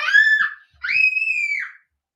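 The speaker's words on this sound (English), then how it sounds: "Okay, sorry for the screams." A child lets out two loud, close, high-pitched screams in quick succession, each about three-quarters of a second long, then silence.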